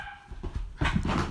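A dog indoors barks at another dog outside, giving a few short, close, low barks and yips in quick succession, fairly loud against a quiet room.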